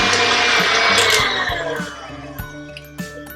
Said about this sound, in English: So we're going to whisk it all up till it gets really, really fluffy